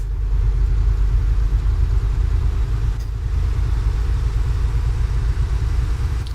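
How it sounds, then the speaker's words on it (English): In a truck simulator game, a Mercedes truck's engine drones from behind as a loud, continuous low rumble that stays steady throughout. "I'm pretty sure I can hear the Merc more than I can hear my own vehicle."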